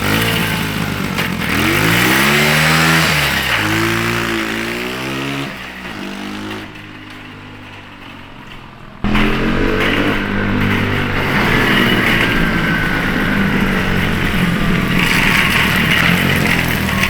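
DIY snowmobile built from a shopping cart, its small engine revving and shifting loudly up and down while driving on snow, dropping to a quieter stretch midway before roaring back up close by.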